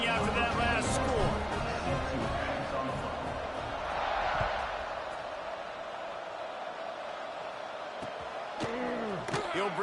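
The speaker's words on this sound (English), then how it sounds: "this crowd is buzzing after that last score." Stadium crowd at a football game, a broad steady roar and buzz of many voices filling the space, with a few sharp knocks and a commentator's voice talking over it.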